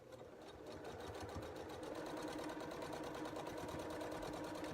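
A sewing machine stitches fabric in steady, rapid, rhythmic pulses, close and continuous, with no voices.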